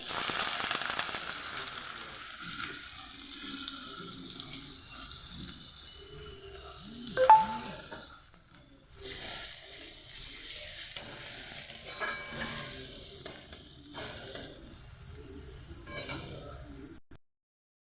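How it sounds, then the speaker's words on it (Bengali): Chopped onions fry and sizzle in hot oil for Bengali-style ghugni, with a steady hiss and stirring scrapes throughout and a sharper clatter around the middle, ending abruptly. "তেল দিয়ে দিয়েছি এর মধ্যে দিয়ে দেব পেঁয়াজ কুচি"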